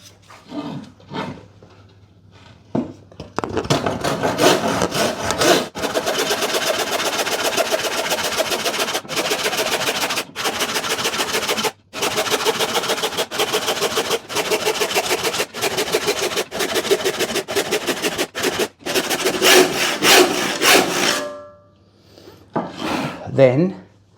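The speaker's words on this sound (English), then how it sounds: "So I'm going to rip that down quickly. By hand's fine." A handsaw rips lengthwise along a wooden board while fitting an old door into a new frame, giving steady rasping strokes close by for about eighteen seconds, with brief pauses between runs and quieter handling noises before and after.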